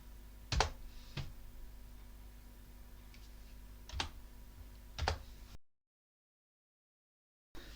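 A few sparse, distinct keystrokes on a computer keyboard while typing a Linux install command, quiet and close, with pauses between taps and a stretch of silence near the end.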